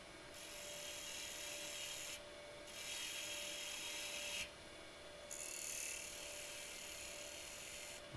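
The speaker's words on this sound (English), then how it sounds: "I'm going to cut some of this waste block away a little bit." Steady rasping of a tool cutting away a wooden waste block in a woodturning demonstration, continuous and fairly even with brief dips where the cut pauses, no talk over it.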